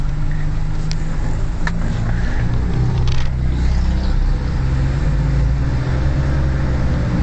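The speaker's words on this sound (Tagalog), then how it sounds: "Dito na naman kami ng traffic." Road traffic rumbles past from inside a moving vehicle, a steady loud engine drone with passing cars and a few brief higher rattles or horns, no talk.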